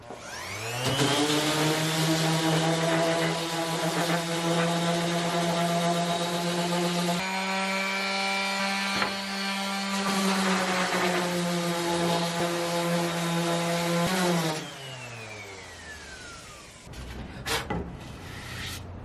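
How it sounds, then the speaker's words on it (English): A power sander works over plywood on a boat build, giving a loud, steady motor whine up close that runs for about fourteen seconds before spinning down, followed by a few faint knocks. "maybe I should sand this really quick and see if I can even redeem it"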